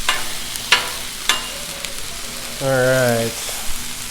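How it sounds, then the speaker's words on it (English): Potatoes shallow frying in oil on a Blackstone griddle give a steady, close sizzle broken by a few sharp scrapes, with a short spoken remark over it. "I'm gonna put a little bit more oil because I wanna kind of try to do like a shallow fry on them"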